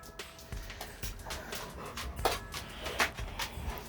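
A dog panting and whimpering nearby, soft breathy pants with faint high whines, fairly quiet throughout.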